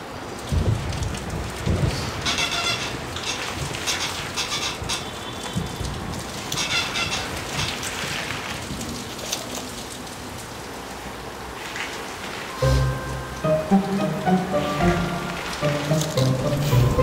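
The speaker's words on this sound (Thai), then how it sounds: "ฝนตกแรงดีจัง" Heavy rain pours steadily in a dense, continuous hiss, with heavier splashing and irregular knocks on nearby surfaces, later joined by a tonal musical background.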